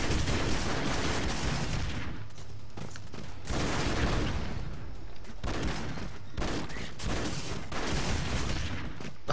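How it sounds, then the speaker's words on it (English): Rapid gunfire with curving bullets in the video game Broforce comes in loud, dense bursts separated by brief lulls, sustained and continuous throughout. "Thank God for these curving bullets."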